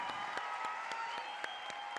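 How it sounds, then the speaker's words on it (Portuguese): Applause from the women in the audience at a "Mulheres Pela Democracia" rally in São Paulo, a steady crowd of clapping with a few sharper claps standing out, fairly even and moderately loud throughout. "Salva de palmas, gente"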